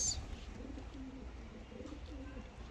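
A racing pigeon coos softly in a few low, rolling phrases at close range, with a brief scratchy noise at the start.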